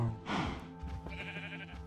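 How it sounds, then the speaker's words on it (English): A sheep in the game Minecraft gives one wavering bleat, close and clear, followed by quieter game ambience. "What is that sheep doing out of its cage?"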